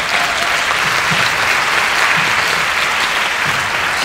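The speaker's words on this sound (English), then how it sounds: "that is worth a round of applause" Loud, sustained audience applause in a large conference hall, a dense even roar of many hands clapping throughout with no pauses.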